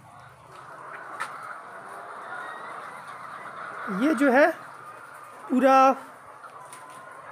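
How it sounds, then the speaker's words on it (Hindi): Chickens inside a large poultry egg farm house, a couple of loud clucking squawks close by over a low ambient hum, with someone talking quietly at the start. "पोल्ट्री मुर्गी का फार्म हाउस है।"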